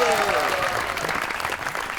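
Studio audience of a Pakistani television talk show breaks into applause for guest Babrak Shah, a short burst of dense crowd clapping over lingering music and a fading voice.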